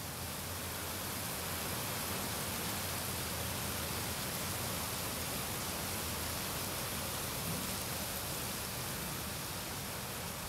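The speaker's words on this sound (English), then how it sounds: "A downpour in Delhi matches my mood." A dense, unbroken hiss of a heavy rain downpour in Delhi, steady and loud for the whole stretch, with no voices.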